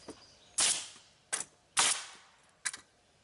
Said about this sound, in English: with my nailing gun.